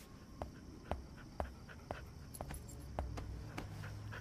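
A dog whimpers and pants in a quiet indoor scene from a romantic film, a run of short, faint, evenly spaced yelps and soft whines repeating about twice a second, with no talking.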